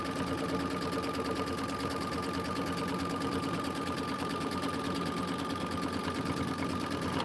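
An embroidery machine stitching a tack-down, a rapid, steady mechanical whir and needle chatter running evenly and close throughout.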